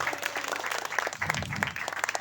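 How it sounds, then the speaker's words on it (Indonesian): An audience at an Indonesian religious lecture gives a burst of applause, with clear individual claps over a busy crowd wash and a brief low rumble partway through. "Tepuk tangan semuanya."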